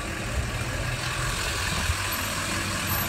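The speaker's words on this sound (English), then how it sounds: "Truck." A truck passes on a road, a steady low engine rumble and idle-like drone with a couple of brief thumps, moderately loud and without anyone speaking.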